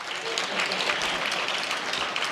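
A crowd at a business summit gives a continuous round of applause, a broad steady wash of clapping with some voices faintly mixed in.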